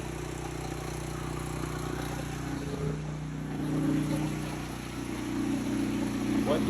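A pressure washer's gasoline engine idles while warming up, a steady low droning hum with slight swells in loudness, close by and continuous.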